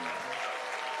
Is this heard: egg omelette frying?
no